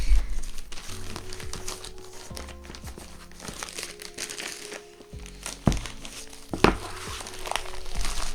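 Plastic wrapping on second-hand manga volumes crinkles and crackles in bursts of handling, with a few sharper snaps and tearing moments, close and fairly loud with no talk.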